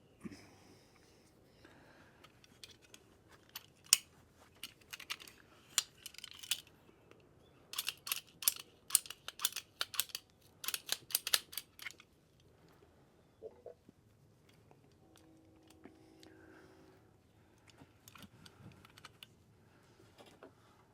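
Cutting while fitting a Tanks Inc. PA-2 electric fuel pump gives quiet, sharp snipping clicks in irregular bursts, separated by soft handling noises and pauses, with no talking.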